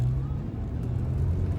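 Porsche 911 with a custom Cobb/Fabspeed tune on its first drive, a steady low engine drone heard from inside the car, continuous and fairly loud.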